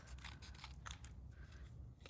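Scissors snip around a hand-drawn cut-out figure with several quick, close crisp cuts in a steady rhythm, fairly quiet and with no voices.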